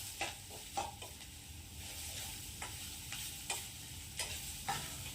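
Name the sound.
grated raw banana being stir-fried with tempering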